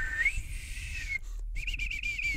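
A high, steady lip-whistled tone that wavers and slides in pitch, then breaks off briefly before returning in a quick fluttering run of short whistled notes.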